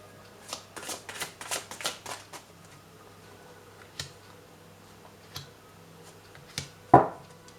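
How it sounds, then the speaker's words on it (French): Tarot cards being shuffled and drawn for a reading, a run of quick papery riffles and flicks early on, then sparser single card taps and a sharper snap near the end, close and fairly quiet. "je vais prendre la première carte"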